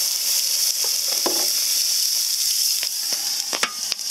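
Food sizzles steadily on a small $30 thrift-store grill, a continuous close frying hiss with a few sharper pops and crackles near the end.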